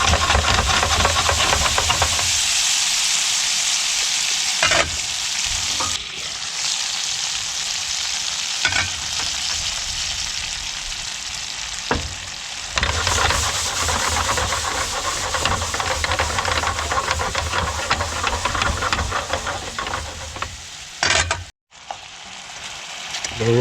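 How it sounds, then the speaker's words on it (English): Flour cooking in a pan for a ragu sauce, beside fish fillets at a catch-and-cook camp, sizzles and hisses loudly and continuously, with stirring scrapes and a few brief breaks in the frying noise. "now I'll put flour in here and cook it in here because it's eventually going to make into a nice ragu sauce"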